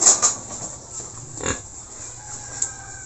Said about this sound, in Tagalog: Lumabas din ang baboy